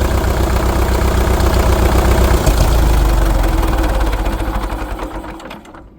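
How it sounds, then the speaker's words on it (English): An International TD-6 crawler tractor's diesel engine runs loud and close with a fast, even knocking beat as it is switched over toward gasoline ignition, then winds down and fades over the last two seconds. "Pulling that back will kill the diesel, and then it will also start the gasoline ignition."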